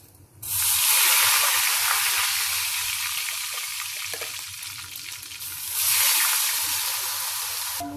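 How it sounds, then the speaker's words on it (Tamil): Ground onion and garlic paste drops into a hot pan on low heat for kaara chutney, bursting into a loud, broad, steady sizzle that fades slightly, then surges again as more paste goes in. "இப்ப அரைச்ச விழுத அதுல போடுறேன். ஏன்னா சின்ன தெளிக்கும், அதனால சின்னதா வச்சிருக்கேன்."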